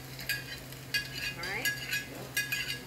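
A utensil stirring egg with vegetables, garlic and ginger in a pan for shrimp and chicken fried rice, with a faint sizzle and four or five metallic scrapes and clinks over a low hum, plus a brief murmured voice.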